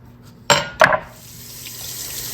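Tap water runs into a kitchen sink while hands are washed after handling raw steelhead trout. Two quick clattering knocks come first, then a steady, close hiss of flowing water builds and continues to the end.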